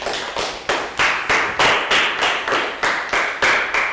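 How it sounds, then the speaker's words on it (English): Children in a classroom clap in a steady, even rhythm, about ten sharp claps in four seconds, loud and close with no talking. "High five for round of applause for Nadia"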